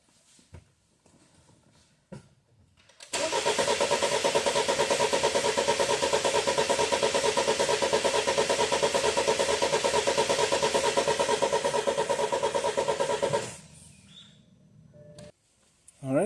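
A 2013 BMW 528 with the N20 engine, under misfire diagnosis with a cylinder's coil removed, cranks briefly and starts, then runs loudly and steadily for about ten seconds before shutting off, preceded by faint clicks and handling noises.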